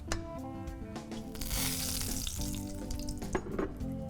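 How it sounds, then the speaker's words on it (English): Olive oil sizzling in a searing hot pan, a close crackling fry that swells after the first second and keeps going, with a few sharp pops and clicks and no talking. "Now I have a searing, hot pan. To that, I'm gonna add some olive oil."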